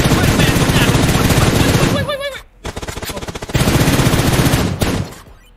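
Rapid automatic gunfire in PUBG Mobile while firing through an x6/x8 scope, dense sustained bursts of loud shots broken by a brief pause, with a short vocal sound in between.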